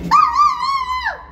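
A human voice imitates a dog, giving one drawn-out, whining bark-like yelp up close, loud and alone.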